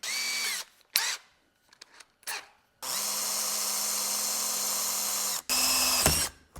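A power drill boring a tiny hole with a 7/64 bit spins up in short bursts, then runs in a long steady whine before stopping and starting again briefly, close by.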